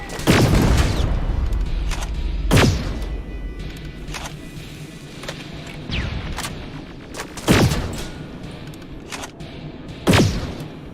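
Grenade explosions in the video game Terminator: Resistance: four heavy booming blasts spread across the stretch, loud and close, with a rumbling background in between.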